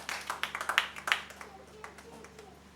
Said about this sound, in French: Lèvons-nous et acclamons pour le Seigneur.